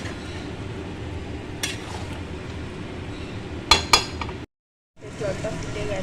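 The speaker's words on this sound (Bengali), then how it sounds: "ঢাকা দিয়ে দেবো।" A metal lid clinks a few times onto a cooking pot of meat, with two sharp clanks close together near the end, over a steady background hiss before a sudden cut to silence and back.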